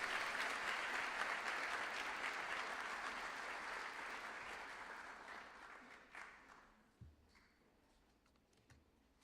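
At a high school honors night, an audience in an auditorium gives scholarship students a sustained round of applause that gradually fades to a few scattered claps and room noise.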